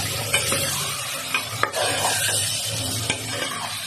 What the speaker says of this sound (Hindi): टमाटर डालने के बाद हम इसे मिक्स कर लेते हैं गोश्त में।